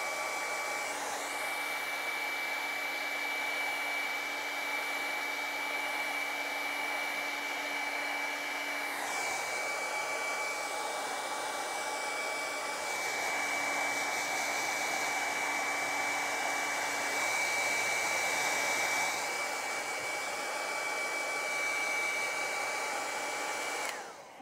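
A hair dryer runs continuously for about twenty-four seconds, drying an Inktense ink painting. The whine is steady, close and moderately loud, with the pitch shifting slightly as the dryer moves, and nobody speaks.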